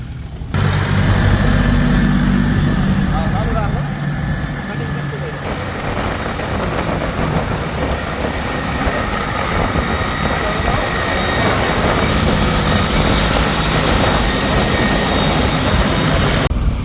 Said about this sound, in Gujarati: ફાઇનલી ટ્રેક્ટર લઈને નીકળી ગયા હતા